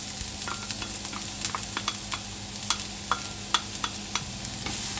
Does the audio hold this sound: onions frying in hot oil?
yes